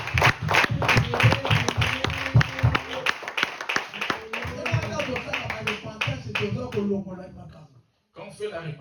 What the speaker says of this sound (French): Acclamons Papa pour Dieu.